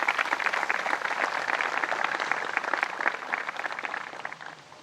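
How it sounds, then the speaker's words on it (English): An audience at a MADD ceremony applauds service specialists and volunteers with steady, dense clapping that holds for several seconds and then tapers off. "Let's give them a round of applause"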